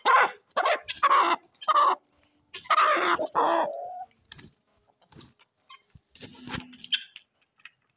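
Hens and a rooster cluck close by in a backyard flock, a series of loud, bursting calls early on followed by quieter scattered clucks and chirps.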